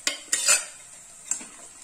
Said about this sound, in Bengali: যতক্ষণ না জল শুকে ততক্ষণ পর্যন্ত নেড়ে নেড়ে নেড়ে নেড়ে এই কচু বাটাকে তৈরি করতে হবে।